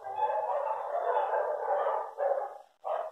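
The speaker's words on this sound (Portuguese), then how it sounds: "E aí a gente escuta os cachorros do vizinho." Several neighbor's dogs bark and howl together in a sustained, overlapping chorus from a short distance, ending in two shorter bursts after a brief pause. No one speaks.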